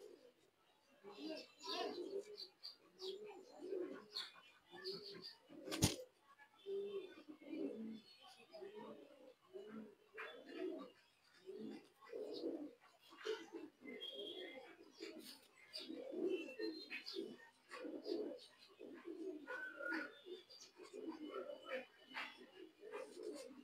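Pigeons coo in a steady series of soft, throaty rolls, close by and filling the scene, with one sharp click partway through; the birds are moulting.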